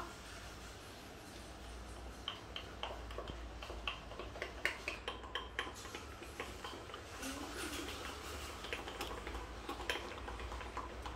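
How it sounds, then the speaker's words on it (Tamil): A spoon stirs batter in a bowl after half a teaspoon of lemon juice is added, giving faint, steady tapping and scraping clicks at close range with no talk. "இதை நல்லா மிக்ஸ் பண்ண வேண்டியது தான்"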